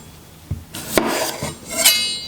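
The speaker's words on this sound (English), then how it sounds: "I'm gonna cut some potatoes, which I'm gonna boil." A knife slicing through potatoes with the skin on against a cutting board, giving a few close, sharp chops and scraping strokes spread over a couple of seconds.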